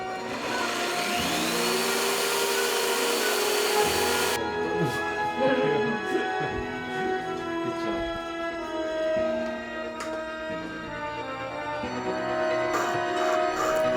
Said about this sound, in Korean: 이젠 익숙해진 구멍 뚫기.